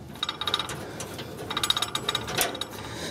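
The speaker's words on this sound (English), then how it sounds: "So let's grab our wrenches and we'll spin this old regulator and hose off of the" Metal wrench clicking and scraping against an old gas regulator fitting while it is spun off a Weber barbecue, in quick clustered bursts of close, fairly quiet ratcheting taps with short pauses between.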